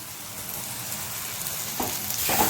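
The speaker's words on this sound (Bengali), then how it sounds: "আদা রসুন পেঁয়াজটা ভালোভাবে ভেজে নিয়েছি" Ginger, garlic and onion fry in a pan for a mushroom dish, a steady close sizzle with soft crackles that grows slightly louder and busier near the end.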